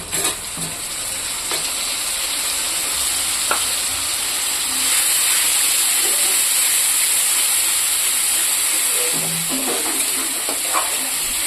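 Spice paste frying with browned onions in a pan for a Bengali radish and fish curry, a steady close hiss and sizzle with occasional stirring scrapes throughout.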